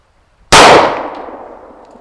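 A single gunshot slams into a metal target during outdoor shooting practice, its sharp crack merging into a loud metallic clang that rings and fades over about a second and a half.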